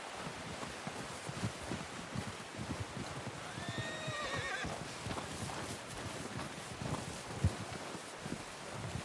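A horse in the Red Dead Redemption 2 video game gives a clear whinny midway, with soft clip-clop of hooves and faint outdoor wind around it, heard alone without talk.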